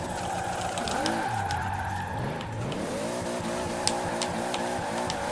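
A Toyota Supra drift build in Forza Horizon 4 sliding sideways, its engine droning and revving with wavering pitch while the tires skid and squeal continuously, loud and steady with no voices.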